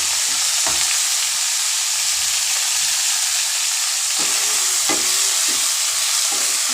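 Brinjal and tomato with turmeric, salt and tamarind sizzle steadily in a pan, a constant frying hiss with a few soft stirring clicks and no voices.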